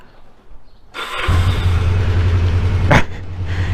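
A Kawasaki 454 LTD EN450 cruiser motorcycle engine cranks and catches after a quiet moment, then settles into a loud, close, steady rumbling idle with a brief sharp blip near the end, no talking.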